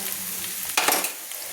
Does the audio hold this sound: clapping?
no